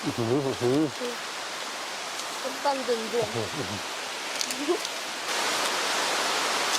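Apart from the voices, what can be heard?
heavy rain in forest at night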